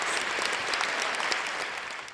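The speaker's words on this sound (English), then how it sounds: "let me go ahead and get you your applause." Applause sound effect during a podcast guest interview: a steady wash of clapping crowd noise at even loudness for two seconds, heard alone, without voices.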